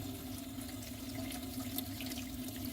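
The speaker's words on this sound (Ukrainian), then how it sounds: "Я промиваю теплою водою." White grapes rinsed under warm running tap water, a soft, steady faucet stream with faint splashing and patter, quiet and close throughout.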